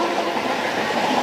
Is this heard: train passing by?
yes